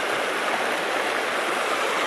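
The Purgatoire River flows past a partly removed beaver dam, producing a loud, continuous rushing and gurgling of water, close and steady throughout with no voices.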